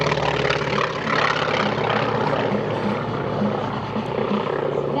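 An F-4 jet flying at the EAA AirVenture airshow makes a steady, loud engine roar that holds evenly throughout with no talk.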